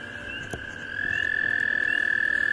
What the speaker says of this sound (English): you guys are hearing the little American toads hopping all around here.